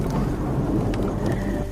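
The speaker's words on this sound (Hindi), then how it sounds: "बाहर आते ही शरीर पर बरसात की बूंदें गिरने लगी" Heavy rain falls steadily with rolling thunder, a loud, dense wash of drops and low rumble filling the whole moment without any voices.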